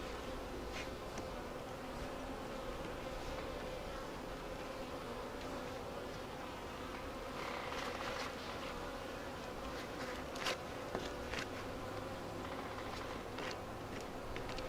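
Honey bees buzz steadily in a dense, continuous drone, with individual bees passing close now and then.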